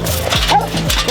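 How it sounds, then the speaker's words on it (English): Large dogs bark and yip nearby in a few quick, loud bursts with whimpering tones between them, fairly close and unaccompanied by talk. "those are the big dogs"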